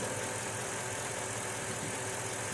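Mercedes CL500 W215 engine idling steadily after an oil and cabin filter change, a constant, even mechanical hum with broadband noise and no pauses.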